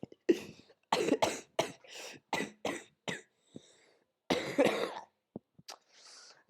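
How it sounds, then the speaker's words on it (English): A person coughs repeatedly during a live 2018 World Cup Germany vs Mexico watchalong: a close, loud series of harsh coughs and throat-clearing bursts in irregular clusters, separated by short silences. "when I cough like that"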